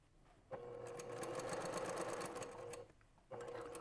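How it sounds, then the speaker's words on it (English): Sewing machine stitching a scrub cap, a steady mechanical whir in two bursts with a brief pause between, close and fairly quiet. "I'm going to do a couple of stitches to lock it in place backwards"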